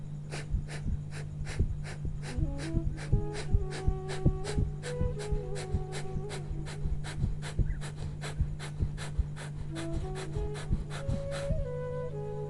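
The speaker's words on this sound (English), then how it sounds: "in a quick way exhale small breaths 30 times" Yoga breathing exercise of rapid, short, forceful exhalations through the nose, about thirty quick puffs in an even rhythm, close, over a steady low hum and soft background tones.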